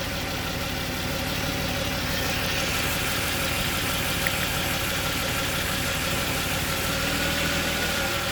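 A Jaguar XJ40 XJ6 4.0 Sovereign with a gearbox that won't shift past second and a misfire, its engine idling steadily close by while the transmission engages as it is put into gear, with no talk over it.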